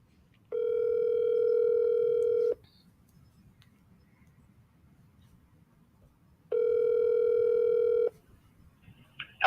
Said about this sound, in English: we're going to call Jeffrey